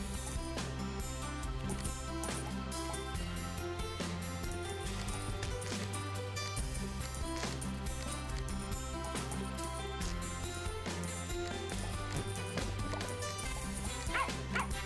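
Dog barking and yipping in the farming game Plantera, repeated short barks over steady, looping game music that fills the whole stretch.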